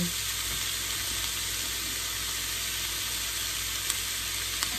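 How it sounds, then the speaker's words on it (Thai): Minced pork stir-fried in a pan hisses in a steady, moderately quiet sizzle, with a couple of faint ticks and clinks near the end and no voices. "ผัดไปเรื่อยๆจนกว่าเขาจะสุกนะคะ ตัวหมูสับ"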